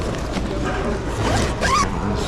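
A slightly corroded zipper on an old bag is pulled along in a few rough, scratchy strokes close by, with a voice talking over it.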